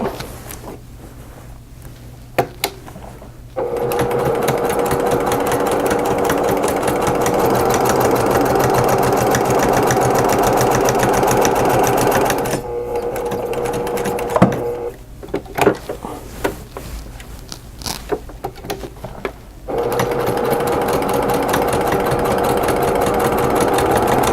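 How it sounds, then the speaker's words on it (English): Sewing machine stitching a quilt-as-you-go table runner, running in long steady bursts with a humming motor and rapid needle chatter, stopping briefly between runs. "Now I'm at the end and I want to do my top stitching across."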